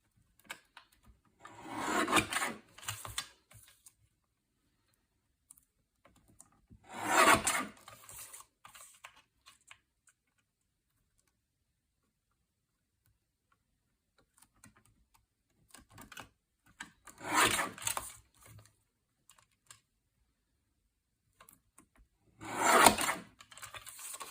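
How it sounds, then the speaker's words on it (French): A paper guillotine cutter slices through paper in four separate rasping, scraping strokes spaced by quiet gaps, each a short close burst. "Ici je vais couper à la guillotine"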